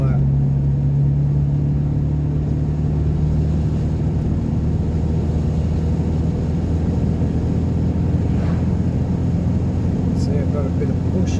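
Car driving on a hilly road toward Kalamunda and Mundaring Weir in Australia, a steady engine drone and road rumble heard from inside the cabin, continuous and fairly loud throughout.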